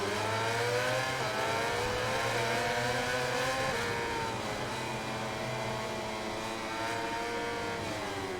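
Racing motorcycle engine in the video game MotoGP 21, a steady, fairly faint high-pitched whine with rising and falling revs as the bike shifts through gears, with no talk.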